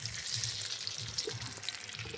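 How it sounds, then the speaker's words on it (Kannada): Fish frying on a flat tava gives a continuous crackling sizzle, close and fairly loud, with faint pops and no talking. "fish tawa fry"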